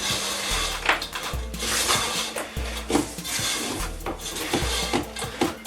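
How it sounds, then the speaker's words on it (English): A spoon stirs Maltesers and Smarties into a thick rocky road mixture, making repeated scraping, clattering rubs against a bowl in a steady back-and-forth rhythm, close up and with no talking. "I'm going to add my Maltesers and Smarties last, and then give that a good stir in"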